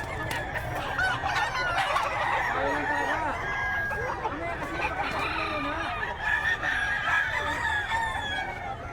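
Many chickens and roosters at a pet market cluck and crow over one another in a dense, continuous din, with a faint voice now and then.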